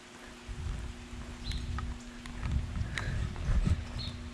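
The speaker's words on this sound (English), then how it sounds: "Definitely count our blessings if we're getting this rain" Steady morning rain patters outdoors, a soft continuous hiss with occasional louder drips and taps, close by and fairly quiet with no talking.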